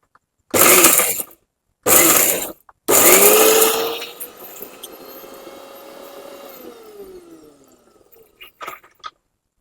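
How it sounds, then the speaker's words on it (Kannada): A kitchen mixer grinder grinding masala roars in three loud pulsed bursts, then runs more quietly for several seconds before winding down. "ಮಿಕ್ಸಿ ಮಿಕ್ಸ್ ಗ್ರೈಂಡ್ ಮಾಡ್ಬೇಕು ಅದನ್ನು"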